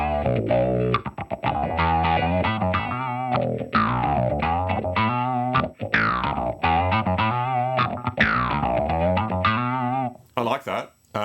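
Line 6 HX guitar processor running its Rez Synth effect: a loud, continuous stream of resonant, filter-swept synth-like guitar tones with sharp note attacks, playing alone for about ten seconds before cutting off.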